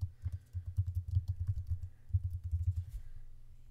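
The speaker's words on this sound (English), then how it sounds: "I'm going to type out in all caps." Quick bursts of typing on a computer keyboard, close and fairly quiet, with a short pause partway through and no one speaking.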